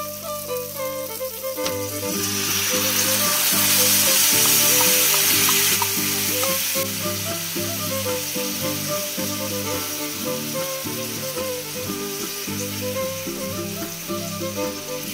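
Soy, chilli and tomato sauces hit a hot pan for egg chilli, giving a loud steady sizzle that swells after the pour, with tonal musical background running throughout.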